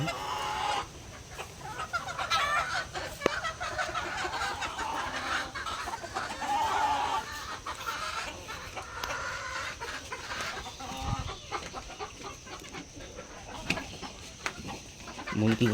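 Chickens clucking in a poultry farm in the morning, a steady chorus of close and distant hen calls with scattered squawks and rustling throughout.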